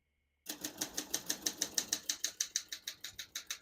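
Typing on a 1975 Olympia SM9 vintage portable typewriter: a steady run of about sixteen crisp, evenly spaced key strikes, close and clear, starting abruptly after a brief silence with no voices.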